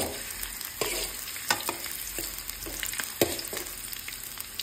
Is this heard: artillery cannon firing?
no